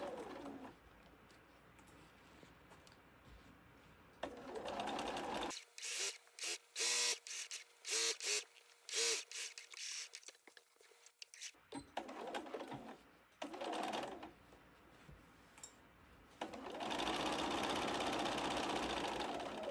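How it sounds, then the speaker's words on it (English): A sewing machine stitches along the edge of fabric being made into a boxed-bottom knitting bag, running in a series of short rhythmic whirring bursts mid-clip with quieter background sound, including cooing birds, before and after. "I'm going to completely turn my fabric and start sewing up the edge."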